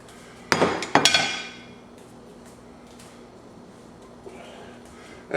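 A beef roast for New Orleans sloppy roast beef is set back into a metal pot, giving two sharp clanking knocks in quick succession that fade into a low, quiet kitchen background.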